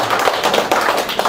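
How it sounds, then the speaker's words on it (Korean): Audience applause at a Korean breakfast gathering and lecture, a steady dense patter of many hands clapping for just over a second, fairly loud and close, with no talk over it. "다시 박수 한번 치겠습니다"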